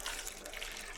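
Water is poured from a fish tank into a smaller container, a faint, brief trickling splash heard alone.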